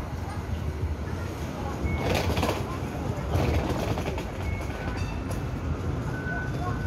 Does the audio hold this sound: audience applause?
no